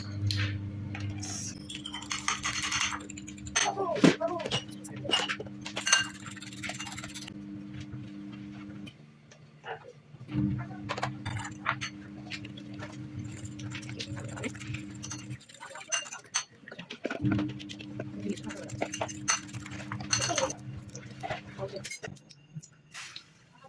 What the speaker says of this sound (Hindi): मैं यहाँ पे अंडा फेंट लेती हूँ और ऑमलेट बनाते हैं